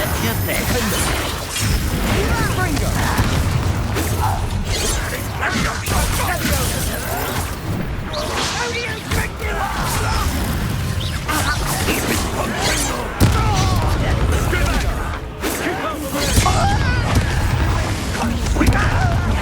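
Spell explosions from the Confringo curse in Hogwarts Legacy, a dense run of booms, crashes and shattering thuds layered over loud continuous battle sound and game music, with voices heard among the effects.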